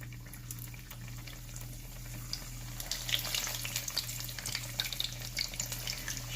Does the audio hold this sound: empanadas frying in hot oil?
yes